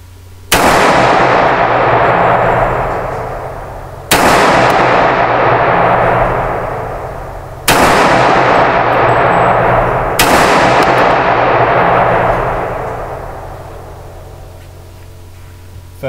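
Four loud pistol shots from a Springfield Armory GI A1 OD green 1911 at an outdoor shooting range, spaced about three to four seconds apart, each with a long echoing decay.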